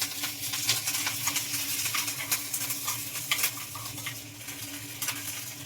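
Tempering spices with curry leaves sizzle and crackle steadily in hot oil in a pan, close and fairly loud, with the scrape of stirring. No one speaks.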